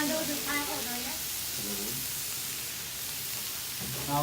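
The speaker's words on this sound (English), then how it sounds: "Now we're gonna add the pork meat." Pork meat frying in a hot pan for Tijuana-style tacos, a steady broadband sizzle running throughout, with people talking intermittently over it.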